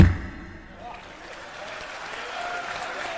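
Applause from an audience at a Hindu religious gathering, a steady broadband patter of clapping that starts loud and settles into a sustained moderate roar across the hall.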